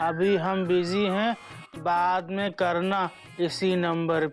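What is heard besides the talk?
No everyday noises stand out.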